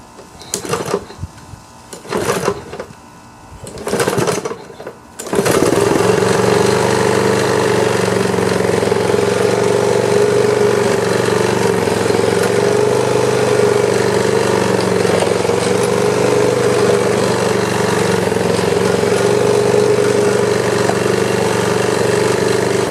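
A Husqvarna AWD riding mower engine starts after a few short cranking bursts, then runs at a loud, steady idle drone close by.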